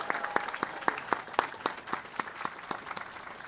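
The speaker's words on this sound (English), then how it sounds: "Please, another round of applause for Dr." Sparse, scattered handclaps from an audience at a college commencement ceremony, a few distinct claps spaced irregularly and fairly quiet, thinning out rather than building into full applause.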